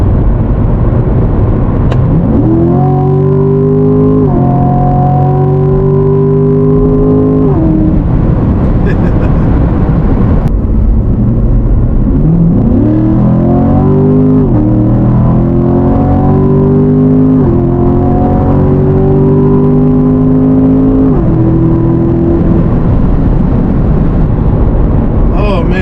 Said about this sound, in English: Driving a C7 during this evening on the highway, going about what 70 miles an hour on the highway.